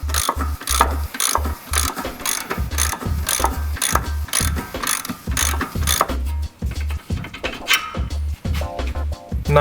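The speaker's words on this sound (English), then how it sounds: "Simply remove the bolt from this side." Ratchet wrench clicking steadily as a bolt is undone from the stock rear shock absorber of a Nissan 350Z (Z33) on a captive nut, a loud, fast, repeated pawl rattle in bursts across the clip, with no talking.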